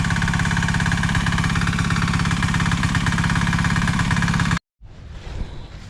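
A Greenfield engine with a 6.5 rating drives a water pump on a farm, a loud close rhythmic idling chug that runs steadily, then cuts out abruptly near the end before a fainter rumble returns.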